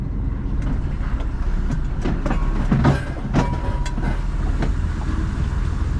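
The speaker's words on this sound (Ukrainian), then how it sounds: "Всі каструлі літають, все літає, все падає" Pots and loose items clatter and rattle in bursts inside a van bouncing over rough unpaved ground in Scotland, over a constant low rumble of the moving van.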